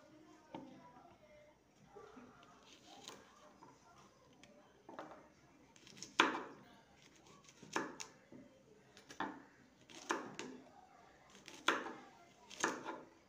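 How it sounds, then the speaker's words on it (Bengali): Okra being chopped into small pieces with a knife on a board, a series of sharp irregular cuts, some louder than others, up close, with background sounds around them. "এইভাবে আমি ছোট ছোট করে কেটে নেব।"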